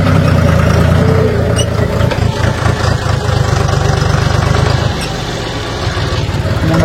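A tractor engine runs close by while leveling soil poured for a new house, a loud continuous low diesel chugging throb that eases slightly toward the end.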